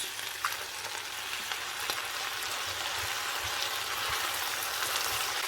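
Tomatoes and green beans fry in hot oil in a pan, giving a dense, steady crackling sizzle that stays close and even, with a few faint stirring knocks and no voices.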